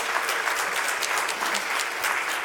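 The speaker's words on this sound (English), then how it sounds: "Please give them a round of applause." Audience applause after a conference interview at ESET, steady clapping of a modest crowd, fairly quiet and continuous throughout.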